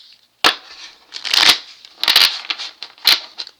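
A deck of cards is shuffled in several quick, crisp riffling bursts spaced about a second apart, close and fairly loud, with no talking.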